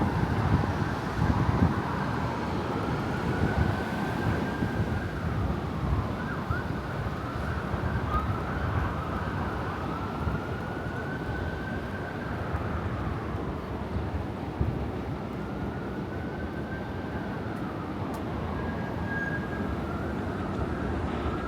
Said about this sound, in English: that's the 1 train pulling into the station right here